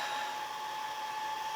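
A hair dryer blows to dry a gingerbread Christmas craft, a steady, fairly close whooshing hum with a constant motor whine and no pauses.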